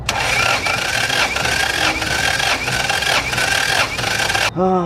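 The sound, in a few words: car engine cranking during compression test, weak battery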